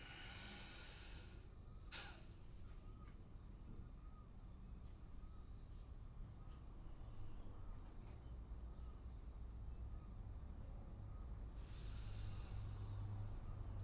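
Rapid, forceful pranayama breaths snort and hiss through the nose in a quiet room, sharp bursts of air followed by softer repeated exhalations.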